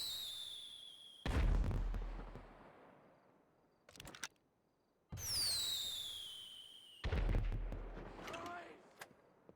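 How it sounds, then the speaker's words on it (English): Gunshots in GTA V roleplay on NoPixel: several sharp, loud reports in separate bursts, each with a long ringing tail, spaced across the clip with quiet gaps between them. "some locals are just calling shots fired up here"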